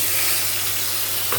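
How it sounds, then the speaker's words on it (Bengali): Prepared spice paste hits hot oil in a pan for a chicken and paneer dish, producing a loud, close, unbroken hissing sizzle with no pauses and no talking. "এখন এই যে মশলাটা যেটা তৈরি করে রেখেছিলাম এটা এখন তেলের উপরে ছেড়ে দেব।"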